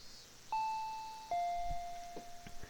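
A doorbell sounds one clear ding-dong chime, the two tones ringing out and fading, followed by faint soft knocks in an otherwise quiet space.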